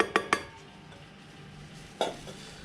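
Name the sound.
mixing sifted almond powder and icing sugar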